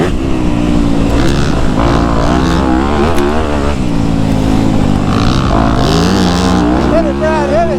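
KX250F and YZ250F four-stroke dirt bikes ride together off-road, engines revving and droning loudly throughout with rising and falling pitch as throttle changes, close to the rider's microphone amid wind noise.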